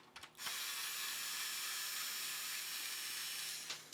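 Broadband hiss-like whir of a powered driver unscrewing the last screw from a Nerf Elite 2.0 blaster, steady and close for about three seconds and framed by short clicks at the start and end.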